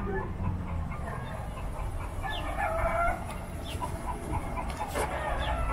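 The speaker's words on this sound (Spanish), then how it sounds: "Pero se escuchan las gallinas, ¿no?" Chickens cluck repeatedly with a rooster crowing, fairly close and clear against a steady outdoor background hum.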